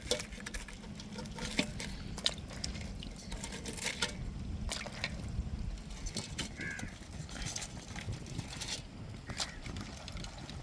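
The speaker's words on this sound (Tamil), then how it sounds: "இப்போ நண்டை நல்லா அலசி எடுத்துக்கிட்டோம்." Crabs are rinsed in water in a basin, with close splashing, sloshing and clattering shell knocks in an irregular, busy patter throughout.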